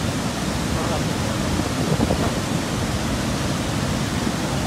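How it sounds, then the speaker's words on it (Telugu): Water rushing at Srisailam dam: a broad, steady roar of flow that fills the whole stretch evenly, with no distinct voices above it. "వాటర్ ఫ్లో కనిపిస్తా ఉంది"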